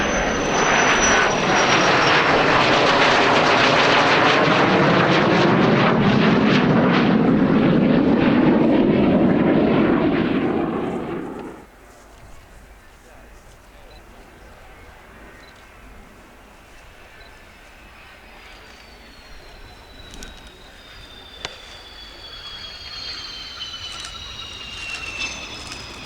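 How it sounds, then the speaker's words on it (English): An A-4N Skyhawk jet flies a display at the RIAT 2022 airshow, its loud, roaring engine sweeping past for about eleven seconds before cutting off sharply into quieter distant aircraft noise. "In then, from the right, the A4N Skyhawk."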